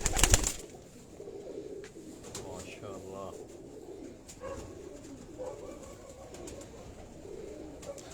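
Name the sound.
Teddy breed pigeon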